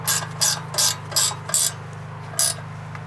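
A ratchet tightens the rear brake caliper bolts on a 2020 or later third-generation Kia Soul, with six quick, crisp bursts of clicking spaced about every half second over a low steady hum.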